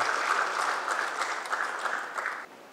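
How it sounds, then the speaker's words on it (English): Applause for a film producer at the inauguration of a cinema expo, a dense, sustained burst of clapping from a crowd that holds steady and then drops off sharply near the end. "let's have a huge round of applause for Shri Boney Kapoor."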